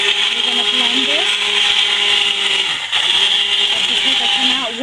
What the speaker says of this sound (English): So here we are with a submersible blender.